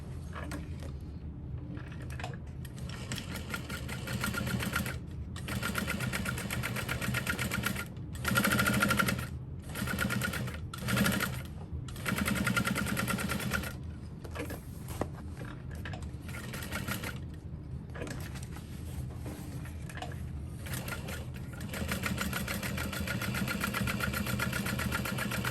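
A sewing machine runs steadily while stitching a backpack, with a continuous motor hum and rapid needle chatter interrupted by several short stops and restarts, close and even.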